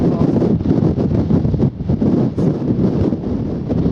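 Strong wind buffets the microphone on a sunny hill walk near Church Stretton, a loud continuous roar with gusty swells and dips throughout.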